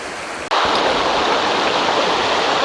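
A creek rushes through a canyon in Üzümdere National Park, a steady, loud broadband roar of flowing water that starts abruptly and continues unbroken with no voices.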